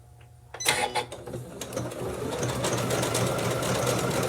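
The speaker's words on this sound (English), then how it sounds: "But this time I'm sewing on the right side of the fabric." A sewing machine stitching an overlock and decorative stitch on fabric starts up after a quiet moment, settling into a fast, steady mechanical whir with rhythmic needle clatter.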